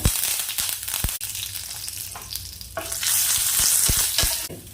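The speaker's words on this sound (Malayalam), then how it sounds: "എന്നിട്ട് ഉണക്കമുളക് ഇട്ട് കൊടുക്കണം കരുവേപ്പില" Dried red chilies and curry leaves hit hot oil in which mustard seeds are popping, giving a loud, continuous sizzle close up, with sharp crackles and pops scattered throughout and a burst of stronger spitting near the end.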